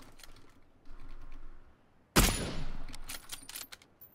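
Gunfire in the battle royale game PUBG: a sudden loud burst of shots lands midway, preceded by quieter background game ambience, with a few sharp follow-up cracks trailing after.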